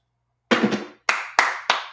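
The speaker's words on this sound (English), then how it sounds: "Round of applause" Four sharp, close hand claps during a live web concert, a short double-struck burst followed by three evenly spaced single claps, each ringing briefly against silence.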